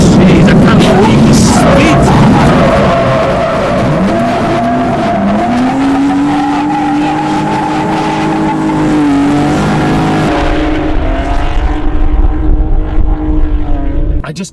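Drift car cornering hard at high speed on a track at Crail, Scotland, its engine wailing loud and close with rising and falling revs, tyres squealing, heard from inside with a passenger ride-along and some talk, fading at the end.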